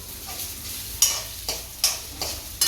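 Sago fries in a pan with potatoes under a steady sizzling hiss, with repeated scraping strokes of a spoon stirring every half second or so.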